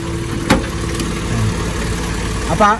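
A car engine idles steadily at a low hum, with a couple of brief clunks and rattles from faulty clutch components rising above it.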